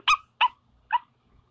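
A person imitates a dog with three short, loud barking yips spaced about half a second apart, alone with no other voices or background sound.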